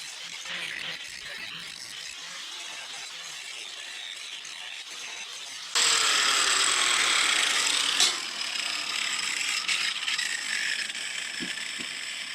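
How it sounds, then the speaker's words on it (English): An angle grinder working rust off the steel plate of a 1940s Chevy trailer during axle removal, a coarse abrasive whine that grows much louder and harsher midway, continuing steadily with no speech. "grinding it down just a little bit before taking the cutoff wheel to it will be a little bit easier"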